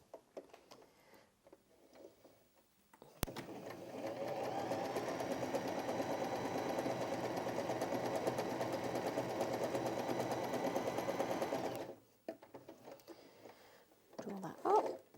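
A Janome J3-20 sewing machine runs a long stitch through thicker fabric in a steady whirring burst of about eight seconds. Quiet handling noises come before and after it.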